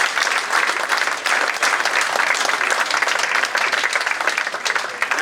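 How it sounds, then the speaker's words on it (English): Dense, sustained audience applause fills a room at a football club fans forum, steady and loud throughout with no break. "a big round of applause again, ladies and gentlemen"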